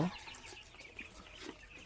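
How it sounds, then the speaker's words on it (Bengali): Seventeen-day-old Tiger breed chicks sunning themselves outdoors, peeping faintly and steadily in a soft, distant chorus. "আপনাদেরকে দেখাচ্ছি আমি আমার টাইগার মুরগির বাচ্চাগুলো"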